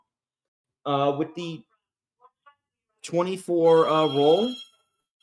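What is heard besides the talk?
telephone ringing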